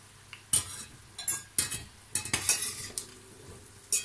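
Tunisian makroud semolina pastries in hot frying oil give a soft sizzle, broken by several sharp clinks and scrapes of a utensil stirring and lifting them from the pan, close by and fairly quiet.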